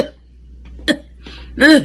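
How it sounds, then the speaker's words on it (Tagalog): An older person coughs a few times, short dry bursts spaced apart, the last one heavier and throatier, close by in a quiet room. "Inuubo po kayo ah."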